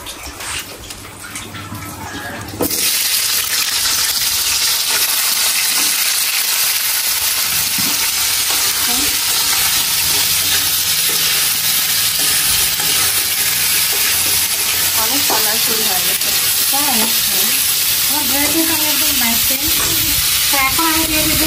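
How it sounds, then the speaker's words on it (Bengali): Onions sizzling loudly in a hot pan, lightly fried and sautéed for a Chinese-style dish, a dense, continuous frying hiss with stirring scrapes that starts abruptly after a brief quieter moment. "আমি একটু সতে করে নেব, জাস্ট একটা হালকা ফ্রাই করে নেব।"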